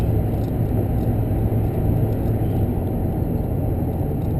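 A 1977 Dodge Adventurer D150 SE pickup truck engine hums quietly and steadily with a low, even rumble, no voices over it.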